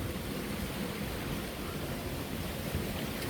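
A waterfall pours into a rocky gorge lined with cliffs, giving a steady, broad rushing roar that holds at one level throughout, with no voices.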